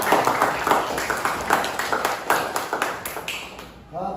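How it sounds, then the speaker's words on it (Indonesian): A classroom group applauds a classmate, a steady patter of many hands clapping close by for about four seconds before it stops abruptly. "Tepuk tangan untuk teman saya"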